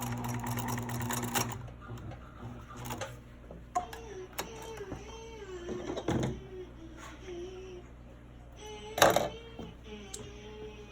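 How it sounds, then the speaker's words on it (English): A sewing machine back stitches and then runs straight off the edge of the fabric, with short bursts of motor whir, mechanical ticking and clicks between runs, heard up close. "I back stitch, and then I just sew straight off the edge of the fabric"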